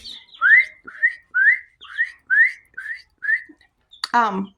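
Baby chicks in distress give a run of seven rising, high-pitched whistles, repeating evenly at close range, followed by a short burst of lower, harsher calls.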